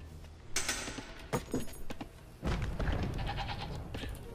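Goats bleating in the Age of Empires II strategy game: several short bleat bursts stand out, followed by a longer stretch of bleating mixed with other game effects and soft clanks.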